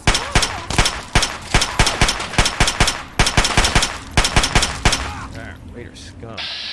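Gunfire in a Fallout game: rapid, loud repeated shots in tight bursts of automatic fire, near and sharp, with a brief pause and fading tail at the end.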